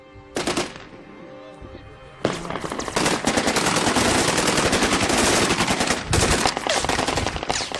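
Gunfire from rebels' Kalashnikov rifles during fighting in Homs, Syria: a single loud crack, then after a pause sustained rapid automatic bursts, close and dense with echoes, continuing without letup.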